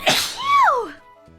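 A single sharp human sneeze, a breathy burst followed by a voiced, falling cry, close and loud, then quiet.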